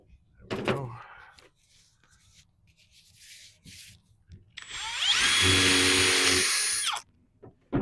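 A power drill bores a hole in very soft wood for a bee hive, one loud sustained whirring burst of about two seconds that follows quieter handling noises and a bit of talk.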